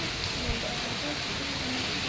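Heavy rain pours down in Chennai, a dense, steady hiss that stays even throughout while someone speaks over it.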